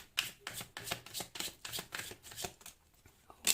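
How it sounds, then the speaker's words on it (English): A deck of tarot cards is shuffled repeatedly, a rapid series of crisp riffling bursts, close and fairly quiet, with no talking. "I'll just do this one shuffle and then we will take out the cards"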